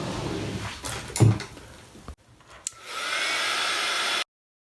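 A heat tool drying ink drops on a handmade card blows with a steady loud whooshing hum near the end, after some brief handling knocks and rustles.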